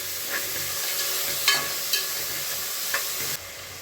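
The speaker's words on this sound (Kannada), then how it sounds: "ಇವಾಗ ಹಿಂದೆನೇ ಟೊಮೊಟೊ ಸೇರಿಸ್ಕೊತಾ ಇದ್ದೀನಿ. ಇವಾಗ ಟೊಮೊಟೊನು ಚೆನ್ನಾಗಿ ಫ್ರೈ ಆಗಬೇಕು." Onion and tomato frying in a pan for bisi bele bath, a steady loud sizzle with a few brief stirring scrapes, close up and without talk.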